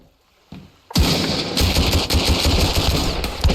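After a brief quiet start, rapid automatic gunfire erupts in the game Sunkenland and keeps rattling in a continuous loud burst, with individual shots popping through the barrage.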